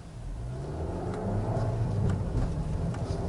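A turbocharged Suzuki Swift Sport, front-wheel drive, accelerates with a steady, loud engine drone that builds slightly in the middle and holds for a few seconds, with no talking.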